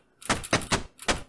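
A Pico-8 shmup plays its player-death effect as four short, punchy crunching thuds in quick succession, loud and close with no talk.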